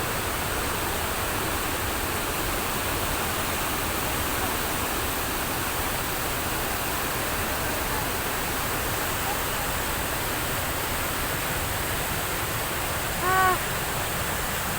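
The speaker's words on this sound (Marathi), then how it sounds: "पाणी किती जोरात वाहतंय" Fast-flowing river water rushes in a steady, dense wash that holds an even level throughout, with a brief faint tonal chirp near the end.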